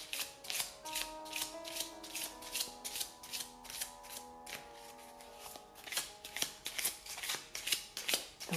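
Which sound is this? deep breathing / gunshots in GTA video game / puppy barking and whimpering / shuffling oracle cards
shuffling oracle cards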